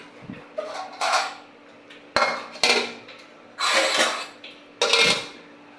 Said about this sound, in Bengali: আমি ঢাকনা দিয়ে এখন ঢেকে দেব।